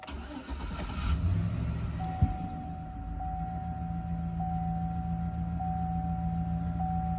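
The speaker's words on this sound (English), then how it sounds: "We're going to turn the key and start this thing and see what it does." 2013 GMC Sierra pickup engine cranking and catching on the key in a backyard, a brief starter whirr followed by a steady, fairly quiet idle with a faint high electrical whine.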